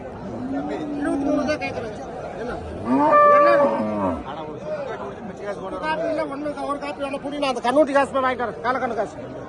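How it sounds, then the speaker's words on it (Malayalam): Cattle moo loudly nearby at a livestock market in Erode, one long low call standing out, amid chatter and talking from a busy crowd. "നല്ല വലിപ്പമുള്ള പശുക്കളൊക്കെ ഉണ്ട്"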